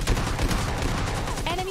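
Gunfire rattles in a PUBG Mobile Lite match, a quick burst of repeated shots at close range lasting under two seconds, with game effects rising near the end.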